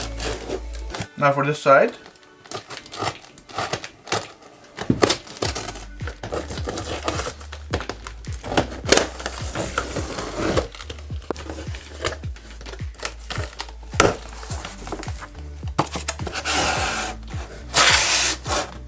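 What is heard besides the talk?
cutting open a box with a Cutco knife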